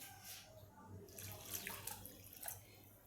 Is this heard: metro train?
no